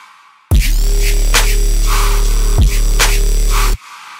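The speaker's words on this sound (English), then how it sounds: "I was not expecting to make a screech today." A harsh, buzzing Serum synthesizer screech lead plays sustained notes with a gritty, screeching top end, loud and alone, ending abruptly.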